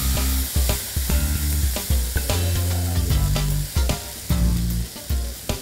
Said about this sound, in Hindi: इस वक्त मैं अब डालूंगी इसके अंदर टमाटर।